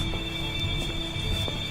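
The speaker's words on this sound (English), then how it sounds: "That's the alarm." An alarm sounds indoors during a paranormal investigation near a staircase: a steady, high, unbroken electronic tone held throughout over a low rumble of room noise, moderately loud and with no speech.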